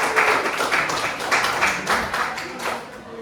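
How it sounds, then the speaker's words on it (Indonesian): A classroom gives a student a round of applause: many hands clap together in a dense, rhythmic patter that stays steady for a few seconds and then thins out, with no one talking. "Beri tepuk tangan dulu untuk anak."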